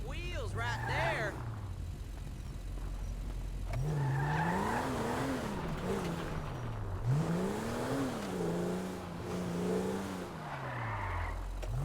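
Car engine in Grand Theft Auto V, holding a low steady drone that climbs and falls as the car revs through gears, with brief tire skids, loud and close throughout the drive.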